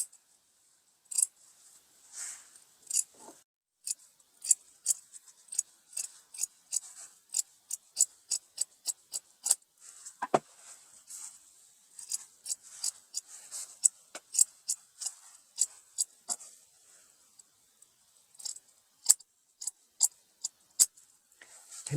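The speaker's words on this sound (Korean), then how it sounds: "안단에 시접 붙은 부분을 반만 다 잘라주세요. 뺑 돌아가면서 한 바퀴 다 잘라주세요." Fabric scissors trimming the seam allowance on the interfaced facing of a raglan-sleeve coat, giving many crisp close snips in steady runs with brief gaps and no talking.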